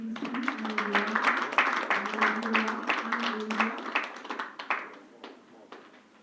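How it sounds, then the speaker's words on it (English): Crowd applause at a formal Nigerian gas-industry deal ceremony, a dense patter of many hands clapping steadily for several seconds and then thinning out toward the end, with a voice over a PA briefly audible. "A very big round of applause for the NNPC Indorama."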